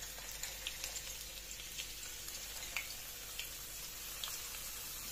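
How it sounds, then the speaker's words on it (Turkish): Potatoes fry in hot oil over high heat, a steady dense crackling sizzle with scattered small pops, fairly faint and continuous with no talking. "Sıvı yağım iyice ısındıktan sonra patateslerimi koyup kızartmaya başlıyorum."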